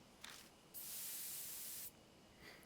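A sprayer in the game Deathmark releases a steady hiss of drug aimed at bees, one continuous blast of about a second, set between quiet background tone and faint softer hisses before and after.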